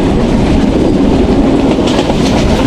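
The Banalata Express, a nonstop train between Dhaka and Rajshahi, runs at high speed, a loud, dense rush of wheel rumble and rattling wagons heard up close from the doorway.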